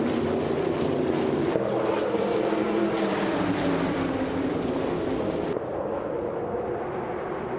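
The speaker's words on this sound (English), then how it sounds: "the race is kicking off at Sitges Terramar, and leading the pack is Bot King Grut in a 1957 Chevy Bel Air" Race car engines drone in a racing video game as a pack led by a 1957 Chevy Bel Air runs at Sitges Terramar. The roar is steady and dense, then eases slightly near the end.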